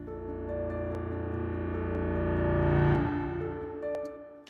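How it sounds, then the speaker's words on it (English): Swelling reversed piano tones, made from one long reversed note, rise steadily in loudness and cut off abruptly, with a brief faint tail afterward; airy and washed in reverb. "these reverse pianos, which you just create by playing one long note, converting it to an audio region"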